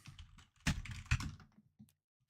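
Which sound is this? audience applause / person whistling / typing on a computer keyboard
typing on a computer keyboard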